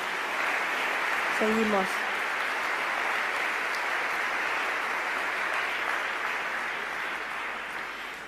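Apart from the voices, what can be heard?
church congregation applause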